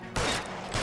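Gunshot fired in the game L.A. Noire, a sharp close report with a short rumbling tail, followed by a second crack just before the end.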